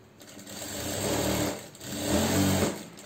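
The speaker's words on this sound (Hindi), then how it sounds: "ये देखिए, अब हमें स्ट्रेट सिल लेना है" A sewing machine stitches canvas along a half collar, running in two close bursts of fast mechanical whirring with a brief pause between them.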